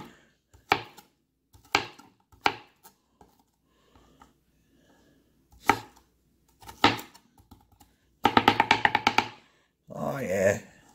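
Sharp Santoku knife chops strike a board in spaced bursts while cutting onions, then a quick rapid flurry of cuts near the end, with a short voice after.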